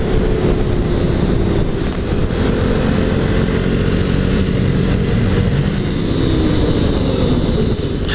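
Vehicle engine climbing a dirt road toward the summit of Marshall Peak, a loud steady drone with heavy wind buffeting throughout, no talking.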